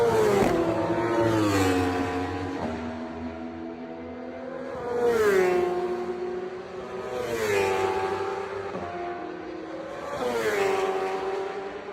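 Racing motorcycles at night during the 24 Hours motorcycle endurance race at Le Mans, engines revving loudly and rising in pitch as several bikes accelerate and sweep past in repeated waves, with a steady drone between passes.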